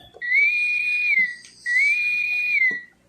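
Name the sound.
toy starship warp drive sound effect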